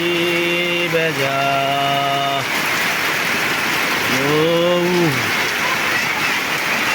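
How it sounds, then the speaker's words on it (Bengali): Heavy, prolonged rain pours down in Muradnagar, Cumilla, a dense, steady hiss close by, with tonal voice-like sounds briefly rising above it. "দেখেন এখনো প্রচুর বৃষ্টি একদম আকাশ সাদা হয়ে গেছে"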